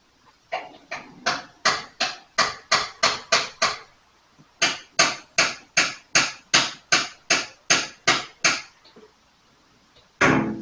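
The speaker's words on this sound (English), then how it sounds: "I think if I got a 3-pound hammer" A heavy three-pound hammer strikes a metal part on a 1980 Datsun 280ZX in two fast rhythmic bursts of about ten sharp, loud clanging blows each, separated by a short pause, with one more hit at the end.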